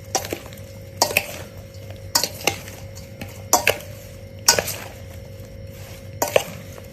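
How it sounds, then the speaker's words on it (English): Mango pickle ingredients with spices and oil stirred in a bowl, giving a series of sharp clinks and scrapes roughly every second against a faint steady hum. "Now it's time to give a good mix to all the ingredients"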